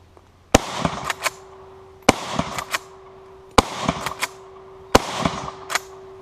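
Four evenly spaced loud shots from an Austrian Steyr M95 infantry long rifle firing surplus ammunition. Each sharp close crack is followed by quick metallic clacks of the straight-pull bolt cycling between shots, with no voices.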